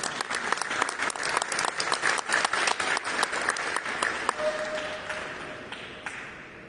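Audience applause for a provincial traditional craft award winner at a ceremony, a burst of many hands clapping with sharp, distinct claps that thins out and fades near the end.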